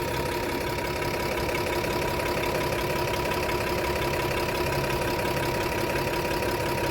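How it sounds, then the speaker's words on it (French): A truck engine idles steadily with a slightly perforated, leaking exhaust pipe, giving a continuous close rumble with a faint ticking edge and no pauses. "Le pot d'échappement, il commence à se percer un peu."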